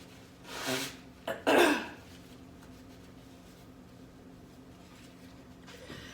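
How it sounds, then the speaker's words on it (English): Someone blows their nose after a Navage nasal rinse, two short, forceful nasal blasts close to the microphone, followed by quiet room tone. "Excuse me while I blow my nose."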